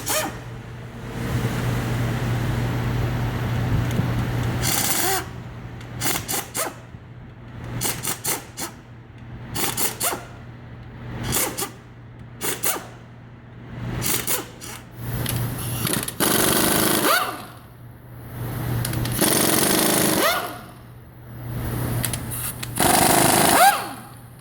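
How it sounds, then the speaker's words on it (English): Tool work on a Ford 6.0 Powerstroke diesel engine while loosening the head bolts, repeated short ratcheting and rasping bursts with brief pauses between them, close and fairly loud, no talking. "So I'm going to go ahead and loosen them up and go from there."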